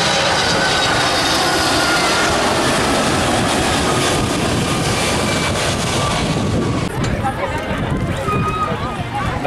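Delta Airlines airliner arriving from Atlanta and landing at St Maarten's Princess Juliana airport, a loud, close, sustained jet roar that holds steady before easing slightly, with a voice speaking over it.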